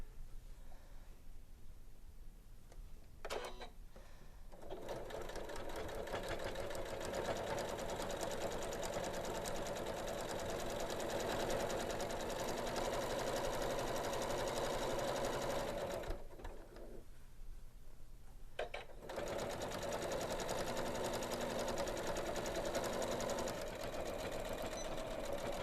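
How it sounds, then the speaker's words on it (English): A Janome sewing machine topstitches down the edges of an interfaced bag with a quarter-inch seam allowance, running in a loud continuous whir that halts briefly twice before resuming, close up and without talk. "I'm going to use a 1/4 inch seam allowance to top stitch down both edges"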